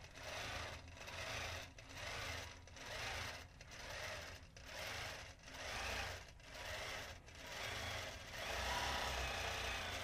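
A quilting machine stitching an edge-to-edge pantograph pattern, its motor whirring in steady repeated runs of roughly a second each, broken by short regular pauses, close and fairly quiet with no talk.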